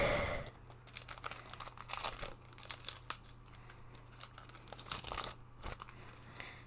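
A Wilds of Eldraine Magic card booster pack being torn open up close, with crinkling foil wrapper and scattered crisp rips and crunches, fairly quiet with no talk.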